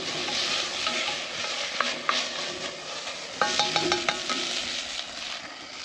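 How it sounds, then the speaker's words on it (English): Garlic, ginger and lemongrass sizzle steadily in a pan at a camp cooking setup, with a few stirring scrapes and light utensil clinks partway through and no talking. "into the pan with a couple of tablespoons of garlic, a couple of teaspoons, of ginger, and a teaspoon of lemongrass"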